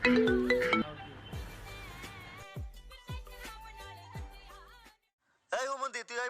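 A mobile phone rings in a restaurant during a comedy skit with a melodic electronic tune that plays, breaks off into silence, then a voice speaks.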